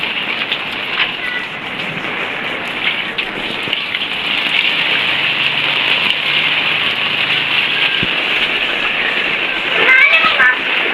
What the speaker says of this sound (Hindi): शुक्र है अल्लाह का बारिश हो रही है